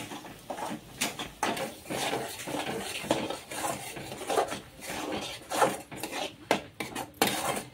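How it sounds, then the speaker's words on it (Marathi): Ground masala paste for egg curry is stirred in a pan, with rhythmic scraping and knocking of a utensil against the metal that rises and falls in short bursts close by. "तर आपण घेऊ आता छानपैकी असं मिक्स करून फ्राय करून घेऊया"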